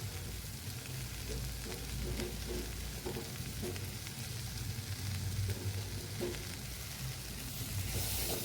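Ridge gourd pieces sizzle softly in a pan while being stirred, a low steady frying hiss with faint scraping, heard alone without any talk.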